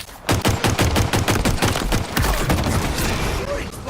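Rapid automatic gunfire in the video game Halo Infinite rattles out in a dense, loud burst of shots, followed by more scattered impacts and game sounds, with a voice faintly present underneath.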